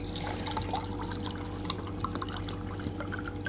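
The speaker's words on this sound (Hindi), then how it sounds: "तो लिहाजा अब मैं पानी डालती हूँ और पीती हूँ।" Water poured from a bottle into a glass for drinking in a home kitchen, a steady close liquid trickle with small splashy drips over a low background hum.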